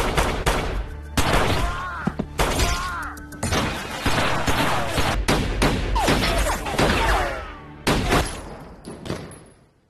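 Gunfire rings out in a film scene as Michael shoots men one by one, sharp loud shots and bursts repeating rapidly over several seconds, mixed with crashing and shattering impacts.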